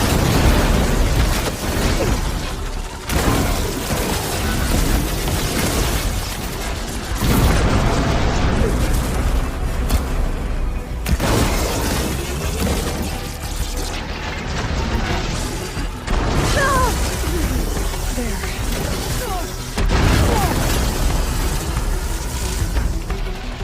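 Ballista shots ring out in the video game Horizon, a dense, loud stretch of heavy booming impacts and bursts layered with rumbling effects, several big hits marking separate shots over continuous action noise.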